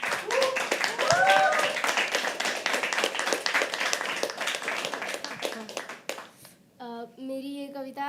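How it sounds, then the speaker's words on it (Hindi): An audience at a stand-up poetry event claps continuously, a dense burst of hand claps that thins and fades after several seconds, with a voice speaking briefly over the tail end. "दोस्तों इन्हीं तालियों के बीच अगली कलाकार वर्षा को"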